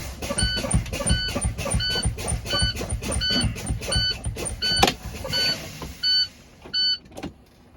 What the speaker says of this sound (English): I will continue fanning my brakes, and at approximately 40 psi, both of my valves will pop out, setting my brakes.